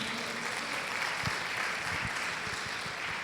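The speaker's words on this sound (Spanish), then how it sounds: "dele un aplauso al Señor" A church congregation at a women's service claps together, a steady dense patter of hands filling the room at moderate level with no voices over it.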